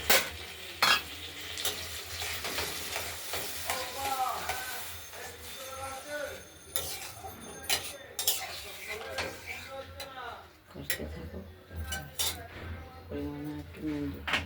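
Ground spice paste sizzling and frying in a pan as it is stirred with a metal utensil for a paneer-fritter curry with potato and tomato, with spoon scrapes and clinks against the pan and a voice talking over it.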